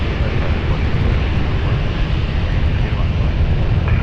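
An aircraft taxiing at Lisbon Airport gives a continuous low engine rumble, with radio talk heard over it.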